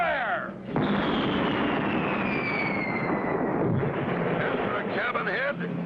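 Cannon fire from a ship in a 1960 color cartoon booms out as a long, heavy rumbling roar that lasts several seconds, with a faint whistling tone across it and a voice briefly heard at the start.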